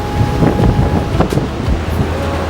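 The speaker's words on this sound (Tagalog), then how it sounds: "Uy, mahangin." Wind blowing outdoors during a DJI Mini 2 drone flight, a rough, continuous rumble of gusts buffeting the microphone, close and fairly loud, with a faint steady hum underneath.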